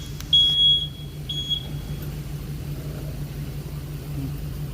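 A truck's backup beeper gives two faint, high, drawn-out tones in the distance over a steady low engine hum, followed by continued idling.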